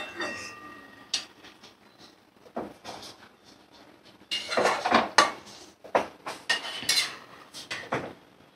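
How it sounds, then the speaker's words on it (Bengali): Fried fish pieces added into a pot of papaya and potato curry, with sharp metal clinks and clattering of a spoon and pot in a few close bursts, plus some quieter stirring between. "তো দেখো এবার মাছগুলো আমি দিয়ে দিচ্ছি।"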